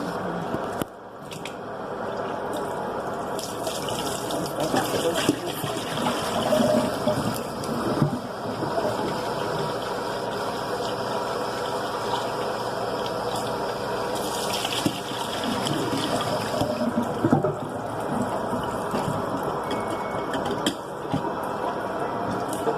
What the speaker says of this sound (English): we're going to add the water real quick